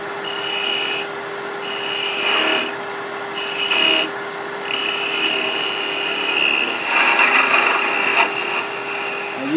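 A wood lathe turns the collar of a chess pawn for a Russian chess set, with a steady motor whine under repeated scraping cuts of the tool against the spinning wood, each lasting a second or two, close and fairly loud.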